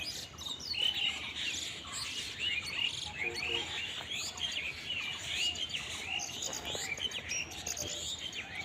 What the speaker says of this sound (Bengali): কি সুন্দর পাখির ডাক।